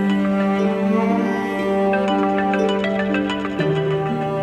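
A phone ringtone plays loudly and continuously, a melodic electronic tune with shifting notes and no talking.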